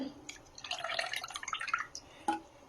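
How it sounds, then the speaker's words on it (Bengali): Milk, kewra water and rose water poured over mutton for biryani, a short run of close, trickling liquid with bright splashy drips, then a single sharp drip near the end. "এর মধ্যে খানিকটা দুধ, একটু কেওড়া জল, একটু গোলাপ জল"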